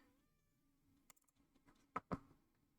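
A cat gives a couple of short, quiet meows in a calm room, close by, with a faint rustle before them.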